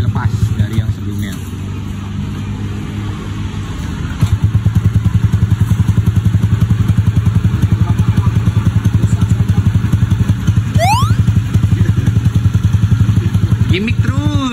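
A bored-up Honda Beat Deluxe motorcycle with its exhaust baffle removed idles with a rapid, loud, throaty pulse, then rises in one sharp rev near the end while someone talks over it.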